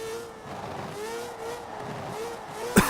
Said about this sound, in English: Sounds like an F1 car.